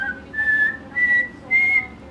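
A voice imitates a small single-note whistle, producing three thin sustained tones separated by short pauses, clear and close.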